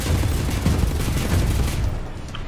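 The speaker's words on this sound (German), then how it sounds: "Und jetzt schießen." Gunshots in the shooter Wolfenstein: The New Order form a dense, continuous barrage of booming, overlapping shots that stays loud and heavy before thinning out toward the end, with no voices.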